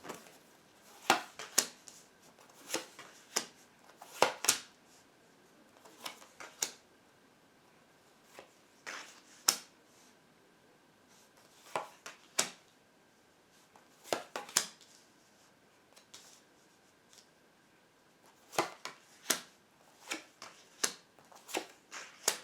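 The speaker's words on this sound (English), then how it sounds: "we're going to split the deck into three and we'll start laying the cards" A tarot deck is split into piles and the cards are laid out, giving a steady run of sharp, close card snaps and slaps spaced irregularly with short quiet gaps between them, and no voices.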